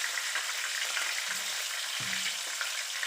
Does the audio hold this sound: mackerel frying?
yes